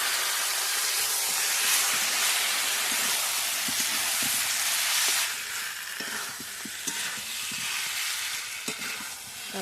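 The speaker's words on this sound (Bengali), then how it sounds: "এবার মাংসগুলো দিয়ে দেবো।" Fried chicken pieces go into a pan of potatoes that have been cooking for a while, setting off a loud, steady sizzle with scattered stirring clinks. The sizzle eases slightly partway through, and no one speaks.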